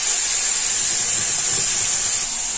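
Onion, tomato, ginger and garlic paste sizzling in hot oil for a potol masala, a steady loud bright hiss that holds evenly from start to end with no talking.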